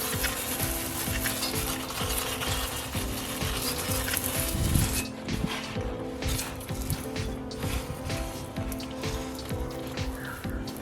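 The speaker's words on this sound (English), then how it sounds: "So I'm using my brake cleaner to clean." Aerosol brake cleaner is sprayed onto the rear drum brake parts of a Holden Barina. A continuous, close hiss lasts about five seconds and then cuts off, leaving faint background noise.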